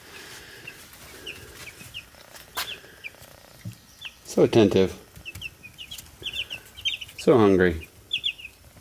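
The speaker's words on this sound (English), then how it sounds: "You can hear them chirp, chirp, chirp." Chicks in a brooder chirp steadily in short, high bursts, with two louder clucking calls and a voice speaking softly over them.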